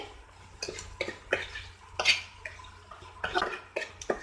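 A spoon stirs boiled peanut sundal in a metal pan, giving a series of scraping, clinking strokes about every half second, close and fairly quiet, with no talk.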